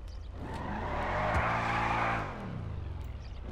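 A car engine in the GTA 5 video game revs hard and climbs in pitch with a steady, loud roar, then eases back down. No one speaks over the sound.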